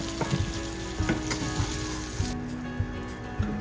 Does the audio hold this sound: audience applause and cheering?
no